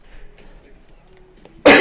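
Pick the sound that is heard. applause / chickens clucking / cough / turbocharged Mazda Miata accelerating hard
cough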